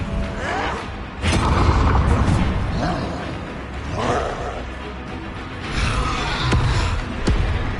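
A Bombarda blasting spell in Hogwarts Legacy goes off as a loud booming explosion with a heavy thud, followed by further rumbling impacts and crashing debris over several seconds.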